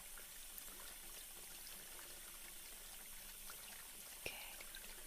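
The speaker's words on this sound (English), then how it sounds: "Right now we just need to wet it with that shampoo." Water mixed with shampoo poured over a person's hair during a salon-style hair wash, a soft, steady, faint stream with one brief tap near the end.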